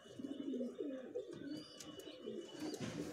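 Close, repeated rolling coos from a male pigeon being prepared for pairing, a wavering, throaty murmur that rises and falls across the whole stretch with faint chirps above.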